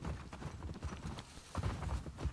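Horse hooves clip-clop in a steady rhythm in The Last of Us Part II, mixed with low rumbling ambience and occasional faint knocks, moderately quiet and unaccompanied by speech.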